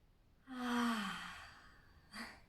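A slow, deep breath during a prenatal yoga class: a long breathy exhale with a voiced sighing tone, close and quiet, followed by a short second breath.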